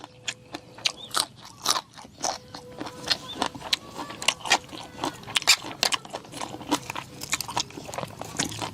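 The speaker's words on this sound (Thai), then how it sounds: "ตัวนี้กรอบดีแล้วก็หวาน" Crisp, repeated crunching bites and chewing of fresh, sweet, crunchy food in a spicy som tam meal at a quiet campsite, sharp close crunches in an irregular rhythm with no talk.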